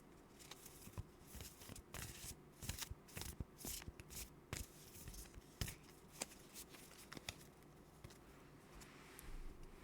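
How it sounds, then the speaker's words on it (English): Tarot cards being shuffled close up, with a quick irregular run of soft riffling flicks and slaps, some sharper card snaps, and no voices. "The card shuffling sounds nice."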